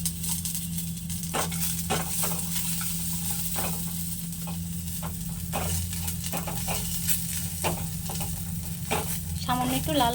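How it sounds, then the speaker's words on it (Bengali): Chopped cashews and almonds fry in ghee with a steady, close sizzle, punctuated throughout by repeated scrapes and clinks of a spatula stirring in the pan. "এখানে কিছুটা কাজু বাদাম আর আমন্ড বাদাম নিয়েছি, এগুলোকে ছোট ছোট করে টুকরো করে নিয়েছি। এগুলো ঘিয়ের মধ্যে ভেজে নেব।"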